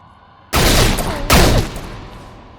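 Two loud, close shotgun blasts in the VR game Experiment Gone Rogue, a second or so apart, each slamming in with a broad roar and ringing decay that fades out afterward.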